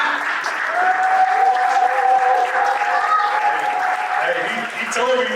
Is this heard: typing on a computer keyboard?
no